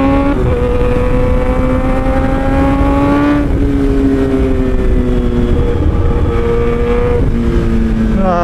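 A Kawasaki ZX-10R sport bike fitted with Bridgestone Battlax Hypersport S23 tyres drones loudly and continuously under the rider, engine pitch rising and dropping through gear changes over several seconds.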